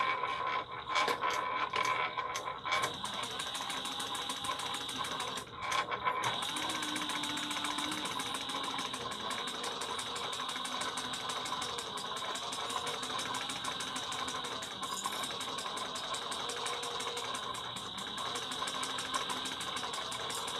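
Sewing machine basting travel bag pieces at an eighth-inch seam, a long continuous mechanical hum with fine rapid ticking, moderately quiet and steady throughout, no voices.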